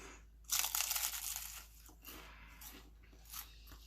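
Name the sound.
biting crunchy phyllo pastry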